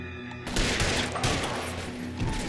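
Gunfire rattles in the video game L.A. Noire during a shootout, a loud burst of overlapping shots that begins after a brief quiet start and continues as dense, crackling fire.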